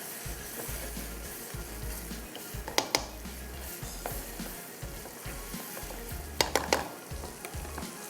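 Ground black pepper, coriander and masala fry in a pan with a steady close sizzle, stirred with a spoon that gives soft scrapes and a few sharp metallic clinks against the pan.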